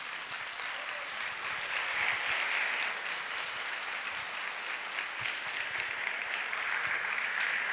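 Steady, sustained applause from a lecture audience after a talk on cannabis-based drugs, dense and even throughout with no voices.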